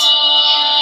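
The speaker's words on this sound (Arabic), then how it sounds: "صوت التليفون بكري سونا به" A brief electronic phone tone, a steady bright ringing note held for under a second, loud and close.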